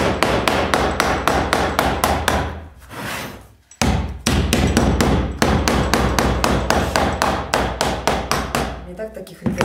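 A light hammer drives fasteners into a DIY upholstered, draped headboard, striking in a steady rapid series of sharp close blows, pausing briefly once before the rhythmic pounding resumes.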